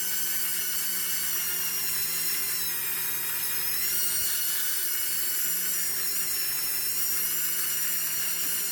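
A Dremel rotary tool grinds and shapes a painted polymer clay pendant, a steady high whine with light grinding texture that keeps going close up without a break, and nobody speaks.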